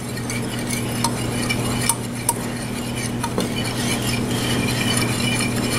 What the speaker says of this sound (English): And we whisk it all together.